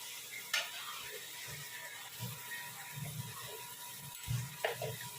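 Potato sticks for French fries fry in hot oil, giving a soft, steady sizzle with scattered clicks and scrapes of stirring, moderately close and fairly quiet.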